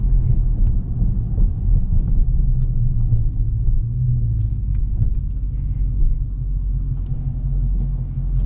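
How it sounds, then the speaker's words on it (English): A big truck rumbles past on a bumpy, potholed road, a deep steady low drone heard from inside a Dodge Charger ScatPack, holding loud for several seconds with no talk. "Big truck."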